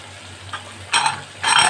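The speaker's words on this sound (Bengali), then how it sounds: "আদা বাটাটা একটু আমি নেড়ে নেওয়ার পরে দিয়ে দিচ্ছি কুচিয়ে রাখা টমেটো" Chopped tomato tipped into a pan of frying ginger, garlic and chilli paste, stirred with sharp bursts of sizzling and scraping in two loud surges over a quiet low hum.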